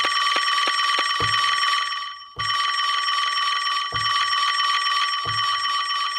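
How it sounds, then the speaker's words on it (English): Phone ring played as a sample on an Akai MPC X, a bright trilling electronic bell sounding in repeated bursts with brief gaps and a low thump at the start of each cycle, loud and alone. "that sounds like a legit phone ringing, right?"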